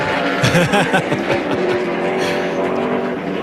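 Martin Truex Jr's NASCAR Cup car spinning out at Bristol, heard as a loud, close roar of race engines with a brief tire squeal mixed in, continuous over the whole moment.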